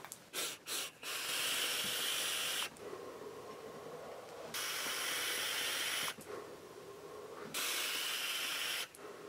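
Vaping on a Joyetech Evic VTC Mini with a dual 0.5 ohm build at 40 watts and wide-open direct airflow, three long loud airy hissing draws with quieter gaps and short breathy puffs at the start.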